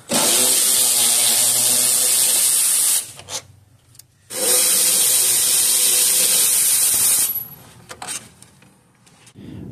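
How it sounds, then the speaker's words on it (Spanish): Two 10 mm bolts holding the radiator of a 2012 Jeep Liberty 3.7 are removed: two loud, harsh whirring bursts of about three seconds each, close by, then a short weaker burst and quieter clatter. "vamos a quitar dos tornillos medida 10 que están agarrando el radiador"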